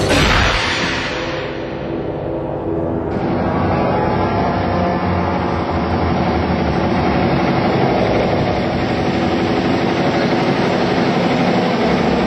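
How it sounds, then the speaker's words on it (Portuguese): A boat or vehicle engine runs steadily throughout at a night stakeout in Brazil, a loud continuous low rumble with constant vibration and no talking. "desliga o motor!"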